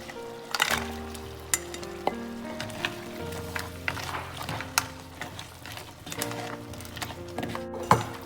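Crab sizzles and fries loudly in masala in a pan, with scattered clinks and scrapes of stirring, over steady background music.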